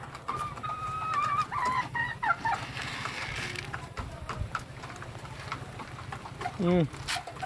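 Chickens cluck and a rooster calls in a muddy backyard yard during rain, mixed with pigeon-like cooing and steady background noise, while someone talks intermittently nearby.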